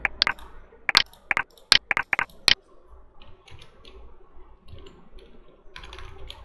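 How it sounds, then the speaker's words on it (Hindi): A computer keyboard is typed on in a rapid, close-up burst of crisp key clicks lasting a couple of seconds, followed by quieter room sound and a few faint clicks. "चलिए यहाँ पे हम लोग टाइप कर देते हैं"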